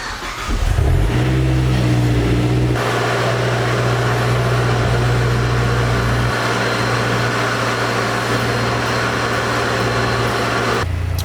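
A car engine fitted with a Corksport downpipe and Autotech high-pressure fuel pump internals cranks and catches, then settles into a loud, steady idle with a shift in tone partway through, close and continuous throughout.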